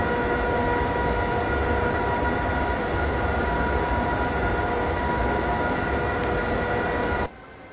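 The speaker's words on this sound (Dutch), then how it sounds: "Ja, voor de mensen die de trein willen zien even." A train rumbles past nearby, a loud steady roar of wheels and carriages lasting about seven seconds before cutting off abruptly, with a couple of faint high squeals along the way.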